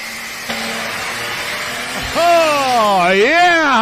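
An alcohol-powered International pulling tractor in the lightweight super class at a tractor pull in Woodbury, Tennessee revs hard, its engine note climbing and wavering in loud surging sweeps after a steady idle.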